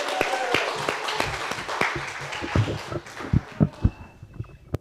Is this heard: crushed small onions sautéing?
no